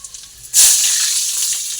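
Ginger and garlic dropped into hot oil for chilli paneer, a sudden loud sizzle bursting in after a brief quiet moment and then hissing steadily up close.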